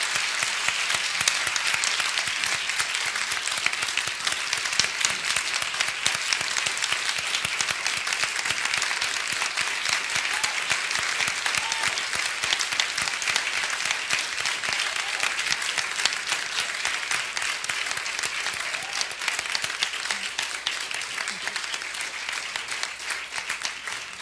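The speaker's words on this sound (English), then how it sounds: "I want to ask you all to join me in applauding this extraordinary panel." A large audience at a Harvard panel on social justice applauds steadily and loudly, the dense, even clapping sustained for the whole stretch with no talk over it.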